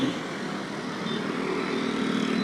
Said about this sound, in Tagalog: so mga motor lang ang nakakadaan sa gilid